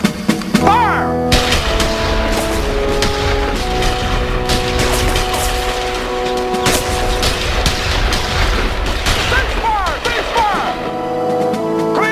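Rifles fire on a military firing line in rapid succession, with sharp repeated shots and booms crowding the whole stretch and some ringing metallic tones between them. A voice can be heard faintly in places.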